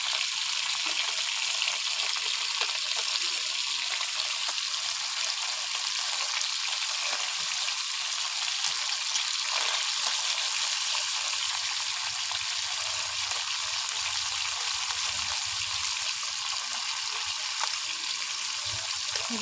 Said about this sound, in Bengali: এই দেখুন বন্ধুরা মাছগুলো কিরকম ভাজা হচ্ছে।